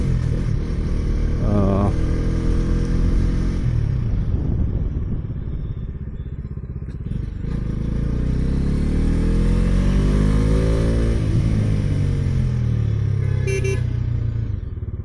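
A Bajaj Dominar motorcycle rides along on the road, its engine note loud and close, rising and falling with throttle changes, with steady wind and traffic noise and a brief horn toot.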